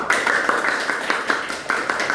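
An audience claps for group 8 after their presentation on Scout semaphore and codes: a steady stream of close, sharp hand claps with regular, rhythmic accents, sounding alone with no talk.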